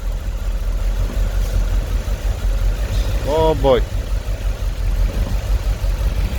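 A 2008 Mercedes S63 with 150,000 km idles roughly and unevenly, a steady low engine rumble running throughout beneath a man's brief spoken remark.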